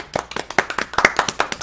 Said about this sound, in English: Round of applause for myself.